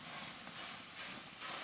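Steak sizzles on a Monument Mesa 400 grill, a steady close hiss of searing fat and juices that swells slightly in waves, with no talking over it.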